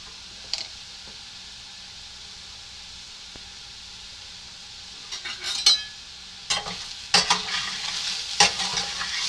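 Cauliflower and chopped onion sizzle in a pan as a utensil stirs and scrapes through them in bursts, quiet at first and growing busier toward the end, with no talking.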